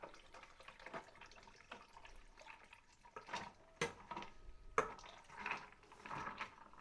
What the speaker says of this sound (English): Going to just put a little bit of water in there.